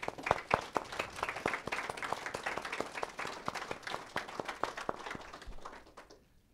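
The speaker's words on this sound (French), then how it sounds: "Je veux qu'on les applaudisse chaudement." Applause for the musicians at a funeral ceremony, a moderately faint burst of many hands clapping with sharp irregular claps, steady for several seconds before fading out.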